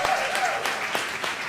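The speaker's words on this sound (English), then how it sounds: "Round of applause to him." Audience applause at a 2018 Robber Talk performance event, a steady dense patter of many hands filling the whole moment, with a voice faintly audible underneath.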